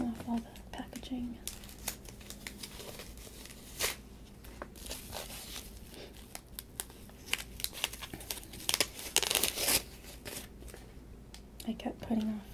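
Plastic and paper packaging crinkles and tears as new Kate Spade and Fabletics items are unwrapped, with soft rustles building into louder crackling bursts near the end, close to the ear, with a quiet soft-spoken voice in the background.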